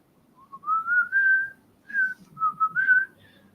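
Someone whistles a cheerful tune in two short phrases separated by a brief pause, the notes clear, steady and close by, with no speech.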